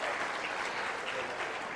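A large audience claps at a papal gathering in Sydney, a brief, dense wash of sustained applause with no talk.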